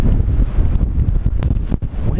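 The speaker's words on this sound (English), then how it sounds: "Windy." Strong wind buffets the microphone beside a lake in a steady, low roaring rumble with brief gusty surges.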